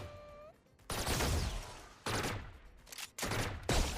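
Bursts of gunfire firing through walls in Valorant: loud, close volleys come in three separate clusters after a brief quiet tonal lead-in, with no voices over them.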